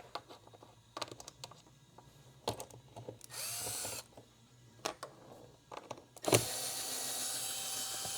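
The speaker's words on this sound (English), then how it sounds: "So let's just go ahead and get the screws for the lid out." A power driver whirs in short bursts, then runs steadily near the end, backing out the screws that hold the lid on a Hellcat cold air intake. The driver is close and fairly loud, with small clicks and handling noises between runs.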